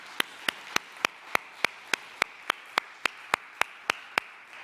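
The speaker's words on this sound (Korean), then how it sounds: "우리 그 좋으신 하나님, 선하신 하나님, 신실하신 하나님께 우리 감사와 영광의 박수 한번 올려드렸으면 좋겠습니다" A congregation at a Sunday youth worship service in a Korean church claps in unison, sharp evenly spaced beats about four per second, loud and close, with no voices over them.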